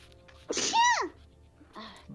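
A single sudden sneeze bursts out, high and sharp with a falling tail, followed by a brief soft vocal sound.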